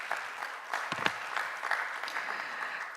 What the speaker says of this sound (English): give a warm applause to this